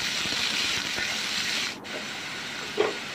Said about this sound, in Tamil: ஆனியன் அதுக்கப்புறமா எடுத்து போட்டு நல்லா டீப் ஃப்ரை பண்ணுங்கள்